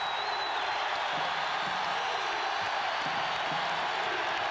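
A basketball crowd in Hilton Coliseum roars during a close Iowa State versus Kansas game, a sustained, fairly distant wash of cheering that stays level without a break.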